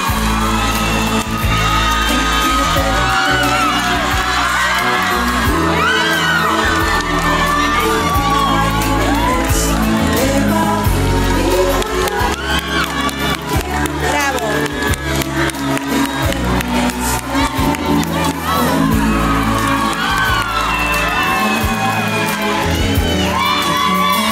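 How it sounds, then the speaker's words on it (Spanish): Studio audience at a televised dance competition final, a loud crowd cheering and shouting with whoops over music, sustained throughout. "Nos despedimos con un fuerte aplauso al team de Luis Vaca"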